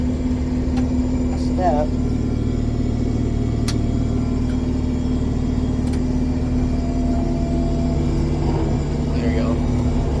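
Farm vehicle in low field gear grinding up a waterway toward a farm, a steady loud engine drone with a constant low hum throughout, someone briefly speaking over it.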